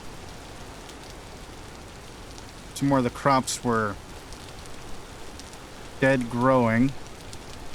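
Continuous rain at night in the video game Vintage Story, an even, dense patter that runs throughout, while someone talks over it in two short bursts.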